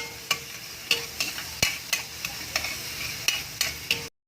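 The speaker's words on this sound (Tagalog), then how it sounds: "Pwede na natin ilaglag itong bawang or yung garlic. Haluin lang natin para pumantay yung kanyang pagkakaluto." Garlic fries in a pan for papaitan while a spoon stirs it, with a continuous sizzle and about a dozen sharp, evenly spaced scraping knocks, close up and with no voices.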